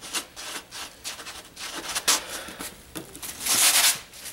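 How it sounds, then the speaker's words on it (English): Hands rubbing borax powder into coyote fur under the front legs during fur handling: a steady close scratchy rubbing and brushing in quick repeated strokes, louder and hissier toward the end, with no talking. "give these under the arms here just another good rub down with some borax"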